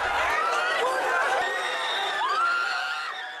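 A huge crowd of excited fans surges around Australian rugby players in Port Moresby as security struggles to hold them back: a dense, steady roar of many overlapping shouts, screams and high cheering voices, close and loud throughout.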